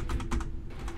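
Loud computer keyboard keys clicking in a quick, uneven burst of sharp taps, close up, with no speech.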